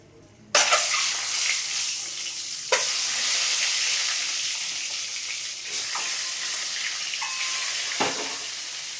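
Eggs dropped into hot white cooking oil seasoned with turmeric and salt, with a loud, continuous sizzle and spatter that bursts up again at each added egg, close and with no talk.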